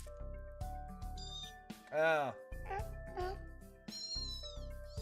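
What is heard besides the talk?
cat meowing in a video game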